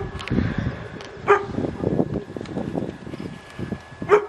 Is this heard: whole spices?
no